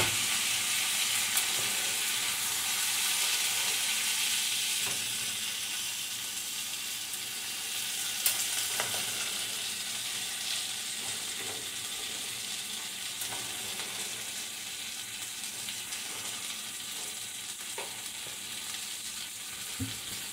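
Turkey, jalapeno, tomato and onion fry together in a pan, a dense continuous sizzle that starts loud and settles slightly, with occasional faint stirring clicks.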